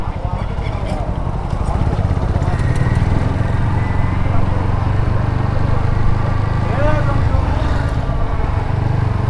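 A TVS Apache RTR 160 4V motorcycle riding along, its engine a steady loud drone with wind rush, close and continuous for the whole stretch.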